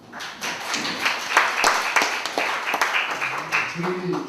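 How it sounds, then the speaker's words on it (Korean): Applause from the audience at a Liberation Day unification policy seminar as an attendee stands to be recognized, uneven clapping swelling and thinning over several seconds while a voice speaks over it near the end. "박수 한번 쳐주십시오"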